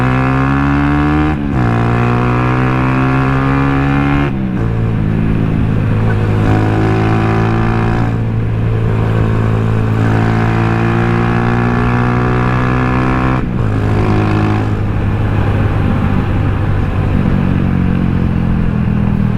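Motorcycles on a group ride pulling away, loud continuous engine drone with repeated revs and gear changes rising and falling in pitch, close and dominating throughout.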